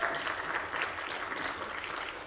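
Audience applause at a conference session on the future of snow, a steady wash of many hands clapping that stays fairly even, then eases slightly toward the end.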